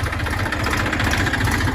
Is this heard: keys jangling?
no